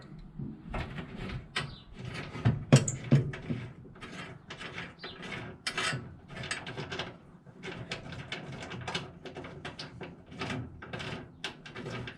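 Bolts being worked loose on a 1964 Ford Galaxie during a brake vacuum tank install, giving a steady run of close metallic clicks, ratcheting and clanks with irregular rhythm, moderately loud throughout.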